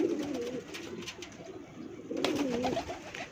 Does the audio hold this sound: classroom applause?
no